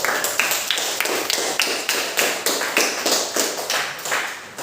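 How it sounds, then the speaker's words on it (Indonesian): Classroom applause for a student group, a dense crowd of hands clapping in steady bursts close by, with no voices over it. "kita berikan aplaus dulu untuk kelompok 3 dulu"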